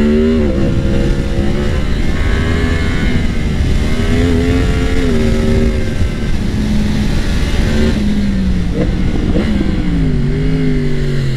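A 2022 Yamaha MT-10 motorcycle engine runs loud and close at steady high revs, its pitch rising and falling slightly through gear changes as it accelerates.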